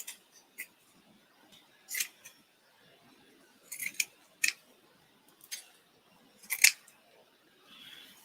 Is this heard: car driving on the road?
no